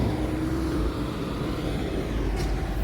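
A bus passes at Glendalough train station, its engine a loud, steady low rumble close by, with a brief hiss near the end and no voices.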